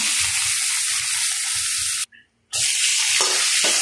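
Tomatoes fry in hot oil with a loud, close sizzle that drops out briefly partway through and then comes back just as strong, with no talk.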